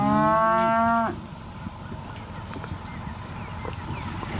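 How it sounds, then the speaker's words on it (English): An Angus cow lets out a single loud, close moo that ends abruptly, followed by quieter farm ambience at a cattle sale. "Whose cows are these?"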